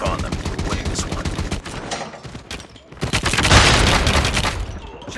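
Heavy automatic gunfire in a Call of Duty Mobile multiplayer match, with dense, rapid bursts and booms that swell louder toward the end, a voice shouting briefly over it.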